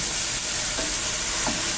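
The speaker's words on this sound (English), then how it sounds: "we literally mix everything together" Eggplant stew ingredients are stirred in a pot over a loud, continuous sizzle, with a couple of faint spoon scrapes showing through the steady frying noise.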